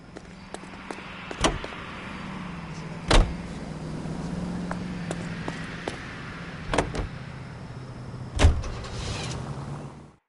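Car driving in the L.A. Noire video game: a steady low engine hum and road rumble runs throughout, broken by a few sharp thumps or clicks like a door or window mechanism, with no talking.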